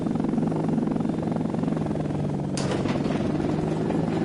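A Mi-24 Hind attack helicopter in a PS4 flight game, its rotor throbbing as a steady loud drone with a sudden burst of rushing noise partway through.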